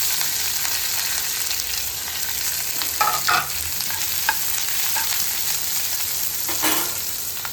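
Onion and curry leaves frying in a pan, a steady close sizzle with a few louder bursts of crackle as they hit the hot oil, no voices.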